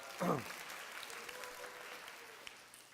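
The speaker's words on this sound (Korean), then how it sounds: "다시 한번 박수 부탁합니다" Applause from the congregation at a church youth service, a brief burst of clapping that fades quickly into a quieter room with faint background murmur.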